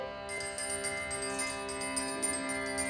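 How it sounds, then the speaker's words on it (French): A small horse bell rings repeatedly with a bright metallic tone, its shimmering overtones lingering between strikes. "est une petite cloche"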